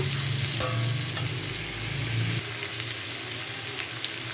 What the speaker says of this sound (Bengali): পেঁয়াজ ক্যাপসিকাম এগুলো তো খুব একটা বেশি ভাজে না তা হালকা ভেজে নিব